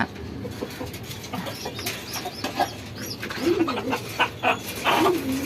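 A Jalali pigeon coos in soft, repeated rounds close by, with occasional rustles of wings and other birds calling faintly behind it.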